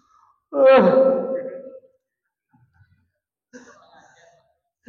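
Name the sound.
imitated noisy yawn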